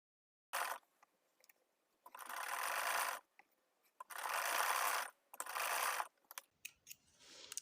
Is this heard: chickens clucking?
no